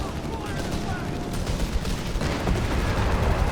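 Rifle and small-arms fire from British riflemen in the battle game Company of Heroes 3 crackles in a dense, continuous battlefield mix of shots and explosions at steady volume.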